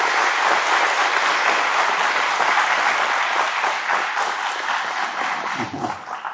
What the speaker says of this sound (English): let's give them a round of applause for their presence and for their contributions